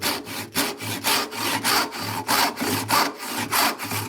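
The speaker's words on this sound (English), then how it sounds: "And I'm sawing down." A hand saw cuts through a wooden dowel in steady back-and-forth strokes, about a dozen rhythmic rasps, close and clear with no talking.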